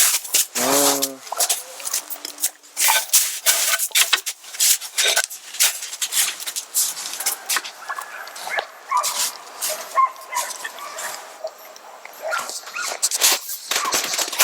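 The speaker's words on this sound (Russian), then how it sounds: "Собаки там, ребят, с ума сходят." Dogs near a deer corral in the forest-tundra whimper, yip and bark almost without pause, a busy overlapping chorus of sharp close calls that runs throughout the clip.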